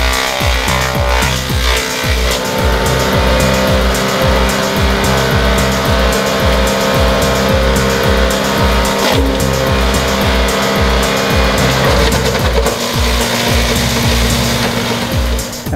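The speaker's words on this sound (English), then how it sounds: "it has a chipper and a mulcher and a hammer mill" A chipper mulcher shredder with a hammer mill roars loudly nearby, with repeated grinding bursts in a steady rhythm as garden wood is fed through.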